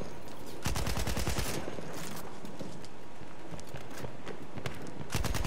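Sniper rifle fire in the Battlefield One video game, heard as loud sharp cracks in a short burst near the start, then scattered distant shots and battlefield clatter, with another sharp report at the end.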